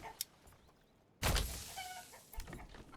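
Game-style chicken clucks and squawks from the video game Manor Lords pop up in short bursts, with a louder flurry of clucking midway over a faint background hum.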